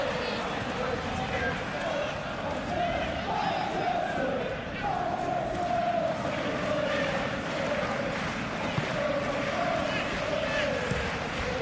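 A stadium crowd in the PES 21 football video game keeps up a loud, continuous roar of chanting and swelling cheers throughout.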